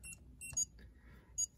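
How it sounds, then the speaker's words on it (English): An alcoholic-themed virtual pet device gives short, high electronic beeps spaced about a second apart, thin and fairly quiet against a faint background, with no talking. "it beeps every second"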